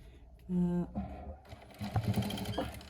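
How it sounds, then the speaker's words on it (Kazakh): A sewing machine stitches a fabric pot holder in short close bursts of rapid mechanical whirring, with someone speaking between and over the runs. "Сонымен тігіп бастаймыз."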